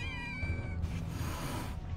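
Kittens meowing in Final Fantasy VII Rebirth, with a few high, tonal mewing calls near the start over a steady bed of game ambience; the cries fade out partway through.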